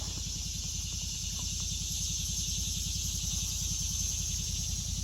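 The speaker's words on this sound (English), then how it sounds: "Those are the first cicadas I've heard this year." Cicadas sing outdoors in a loud, continuous high buzzing chorus, with a steady low rhythmic pulsing running beneath it throughout and no voices.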